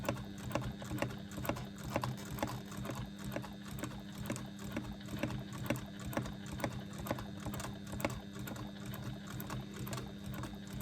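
Domestic sewing machine running slowly and steadily for free-motion quilting with a large needle, its needle thumping in an even repetitive rhythm alongside a constant motor hum, close and moderately loud with no talking.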